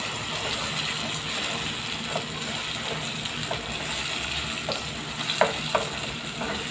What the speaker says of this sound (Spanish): Y le echamos el tomate. Vamos a dejar que se sofrite un momento.